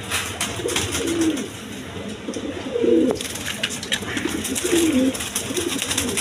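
A female pigeon coos in three distinct low, throaty bursts spaced a couple of seconds apart, close by, over a quiet background hum.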